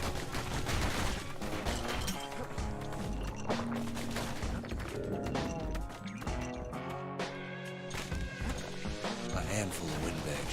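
Enemy pincushion creatures firing volleys in the game Bastion, with dense rapid shots and crashing impacts running throughout under background music, while a narrator's voice talks over the action.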